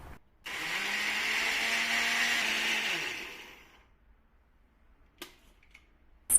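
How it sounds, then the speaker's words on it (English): A blender whirs for about three seconds, blending watermelon cubes with salt and peppercorns into juice, then winds down to quiet, followed by a couple of small clinks. "I add in watermelon cubes, salt, peppercorns and blend it into a juice"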